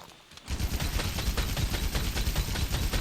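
Heavy gunfire in Monster Hunter World, a steady dense barrage of rapid shots starting after a brief quiet moment and continuing loudly to the end.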